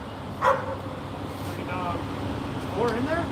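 A three-month-old little black puppy gives a few short, light barks or yips spaced across a few seconds, close by, mixed in with people talking nearby.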